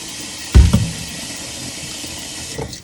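Water is poured into a pot of potatoes in a short splashing burst, followed by a smaller second splash and then a faint quiet background.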